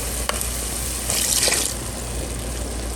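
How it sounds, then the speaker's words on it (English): Half a cup of sherry hits a hot pan and sizzles, a brief splashy hiss swelling for a moment before settling into a steady low fry, close and alone. "I'm going to deglaze the pan with a half a cup of sherry"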